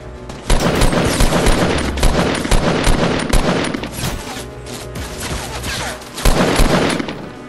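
Dense, sustained gunfire from a Fortnite match, rapid bursts and sharp shots nearly continuous throughout, with heavier blasts near the start and toward the end.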